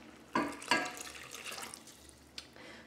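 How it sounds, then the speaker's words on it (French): Lukewarm water, 22 centilitres, poured into mixed dough ingredients for lissan atir cookies, giving a close splashing pour with two sharp onsets early on, a trickling wash, then a brief later splash. "maintenant, je vais rajouter les 22 centilitres d'eau tiède."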